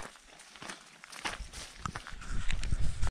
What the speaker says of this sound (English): This apprehension of rattlesnakes is further compounded by the sound that I'm making as I walk through this tall grass.